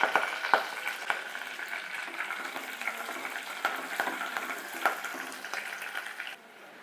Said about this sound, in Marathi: त्यात आपण ही अद्रक लसणाची पेस्ट टाकून घेऊया एका साईडला कांदा टाकून घेऊ एका साईडला कढीपत्ता टाकून